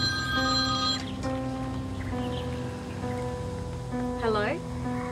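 A mobile phone rings with a steady repeating electronic tone, fairly loud and close, while people talk over it indoors at a birthday gathering.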